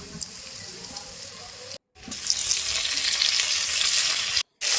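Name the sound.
chopped onion frying in oil with five-spice in a wok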